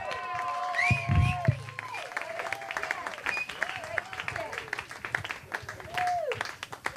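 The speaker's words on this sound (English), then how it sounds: "Give a round of applause." Applause from an audience at a Palm Springs event rises in a short burst and then settles into scattered clapping and cheering, with people talking over it.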